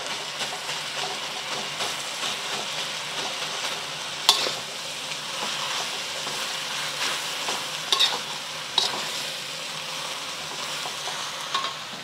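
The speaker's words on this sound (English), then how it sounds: "I just want the cabbage to be wilted, but again, if you want it to be more cooked, you can cook it for up to five minutes." Shredded cabbage and egg for moo shu pork are stir-fried in a pan, giving a steady close sizzle broken by occasional sharp clacks of a utensil scraping and tossing the food.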